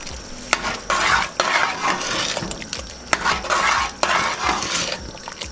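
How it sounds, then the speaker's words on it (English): Pasta being stirred in sauce in a pan makes wet, squelching scrapes in several rhythmic strokes, punctuated by sharp utensil clicks against the pan over a low sizzle. "We're going to give this a stir."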